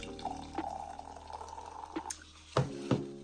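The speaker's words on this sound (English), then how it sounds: "We are gonna pour it into a cute cup because it'll just make it taste like wine" Red Bull energy drink pours into a cup with a thin, steady liquid trickle and a few small splashes and drips, close and quiet, with no talking.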